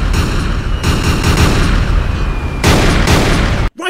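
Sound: ship cannon firing in One Piece anime movie

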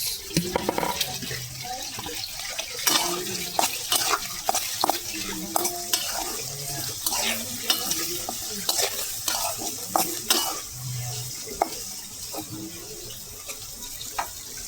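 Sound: shrimp frying with chili

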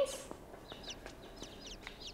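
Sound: chickens clucking in the video game Inside

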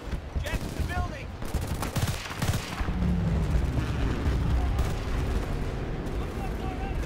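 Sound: explosions and gunfire in the video game Battlefield Bad Company 2

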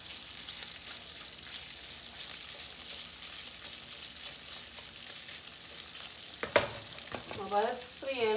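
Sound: onions and hot dogs frying in a pan

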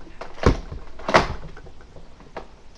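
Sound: toy vehicle door shutting, Mega Centurion Sonic ice

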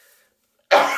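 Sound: cough

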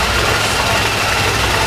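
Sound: car engine idling

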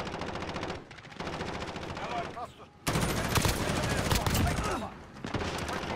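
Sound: gunshots in the video game Call of Duty: Modern Warfare

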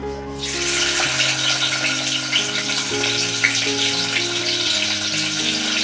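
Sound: onion frying in hot oil

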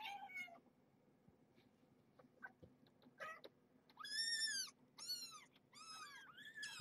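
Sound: kittens squealing

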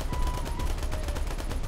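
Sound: aircraft gun firing in the video game War Thunder

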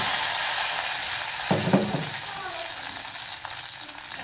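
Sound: tempering sizzling as it is added to sambar

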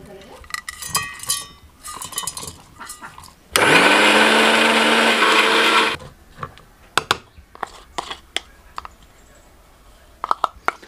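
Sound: mixer grinder blending masala paste

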